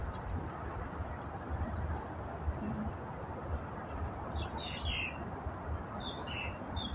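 Birds chirping in a seaside park on an overcast day, short high tweets coming in small bursts toward the end over a steady background hum.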